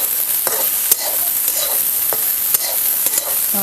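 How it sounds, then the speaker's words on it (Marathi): Green tomatoes are roasted in a little oil in a pan for chutney, a loud continuous sizzle with repeated scraping stirs and spoon taps heard close up, no voices. "हे टमॅटो वगैरे भाजून घ्यायचं"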